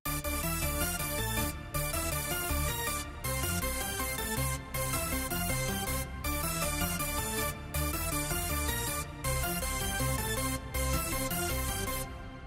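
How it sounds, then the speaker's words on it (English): A keyboard synth plays a Eurobeat arpeggio, with a dense, loud, continuous pattern of rapid notes over a driving beat, broken by short regular gaps every second and a half. "So here we have a kind of arpeggio, which I played on the keyboard"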